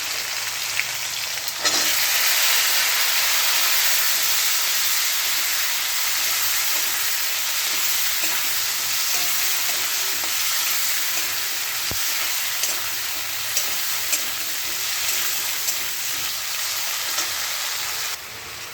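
Potatoes fry in a pan with a dense, even sizzle that holds steady for the whole stretch, close and unbroken apart from an occasional faint knock, no voices.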